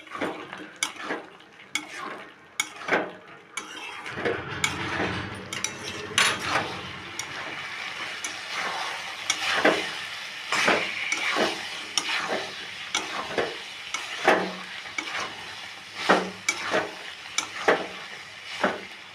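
Paneer curry being stirred in a pan on the stove, with a spoon scraping and clinking against the metal over a steady low sizzle, repeated scrapes spread across the whole stretch, close and fairly loud, no talk.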